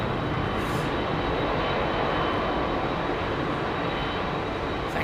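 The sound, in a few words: Boeing 747 airliner at Heathrow Airport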